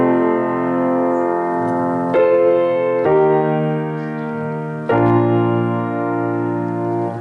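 Piano playing a section of a song, sustained chords changing at three points, full and steady at close range with no voices.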